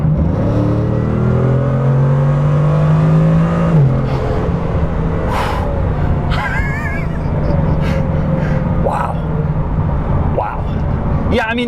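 Bugatti Chiron at full throttle: a loud engine roar climbs steadily for about four seconds, then drops off. Wind and road rumble follow, with people talking and gasping over it.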